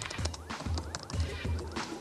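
In a TV advert for a hip hop horse, repeated horse whinnies and honking cries come in a rhythmic series of about four bursts, loud and close over a backing beat.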